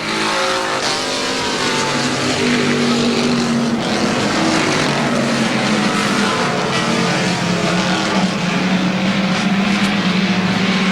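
Race cars roar past on the final lap at Lorain County Speedway in 1987, a loud continuous engine drone with rising and falling revs as several cars pass close by.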